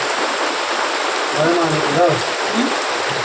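Heavy rain falls steadily in a dense, even hiss throughout, with a few brief voices speaking faintly over it.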